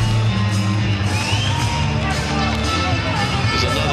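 A crowd at a Cage Warriors MMA fight cheers and whoops loudly and continuously, a dense roar of shouts and yells filling the arena.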